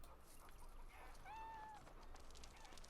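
A kitten in the video game Dragon Age Origins Awakening lets out a single short, faint meow partway through, over a quiet game background hum.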